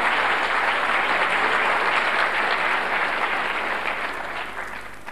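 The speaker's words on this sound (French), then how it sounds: "Il faut applaudir Alex Elkayem et Jean-Michel Landau" A seminar audience applauds with steady, dense clapping that holds evenly and tapers slightly toward the end.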